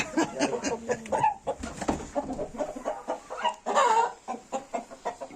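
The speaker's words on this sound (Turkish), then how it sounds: "Orada ufak horozumuz var." Chickens cluck busily in a continuous, overlapping chorus, with a young rooster's call rising briefly among them, fairly close and moderately loud.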